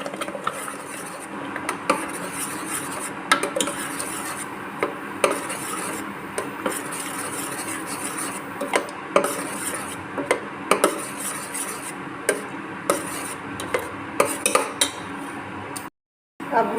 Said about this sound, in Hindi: अब हम इसमें प्योरी डाल लेंगे। इसे अच्छे से चला लेंगे।